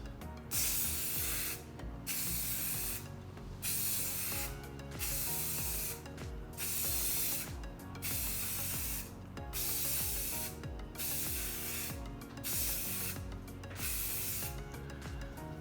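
Repeated bursts of aerosol spray paint hissing onto the headlights of a 2004-05 Subaru STI/WRX from 10 to 14 inches away, each lasting about a second with short pauses between, close and steady over a low background hum.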